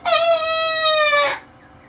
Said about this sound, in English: our rooster, which we have a rooster by the way